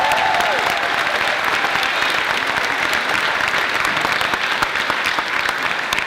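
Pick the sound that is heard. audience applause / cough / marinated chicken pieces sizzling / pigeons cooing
audience applause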